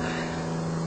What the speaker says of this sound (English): That's a helicopter airplane just leaving.